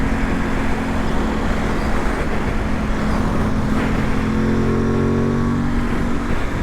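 A 2021 Aprilia Tuono 660 motorcycle cruising on a motorway, its engine a steady loud drone blended with heavy wind and road rush, holding an even tone throughout with a slight pitch shift near the end.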